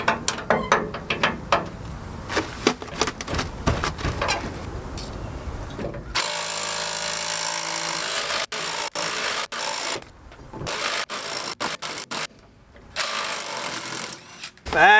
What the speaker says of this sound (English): So I'm going to take those bolts off.